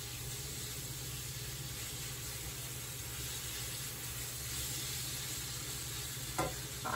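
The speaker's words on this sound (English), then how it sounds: "hot pan, in goes the noodles. Hear that sizzle?" Noodles fry in a hot pan for a keto recipe, giving a continuous, fairly close hiss and crackle of sizzling, with a brief clatter of stirring near the end and no talking.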